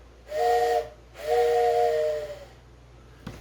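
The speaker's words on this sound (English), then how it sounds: "I got my trusty train whistle here," Two breathy toy train whistle blasts, a short one then a longer one, close and loud, followed by a faint click.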